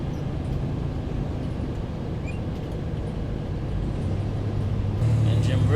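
A quiet International truck engine idles steadily with no trailer attached, a low even hum throughout that grows a little louder and rougher near the end.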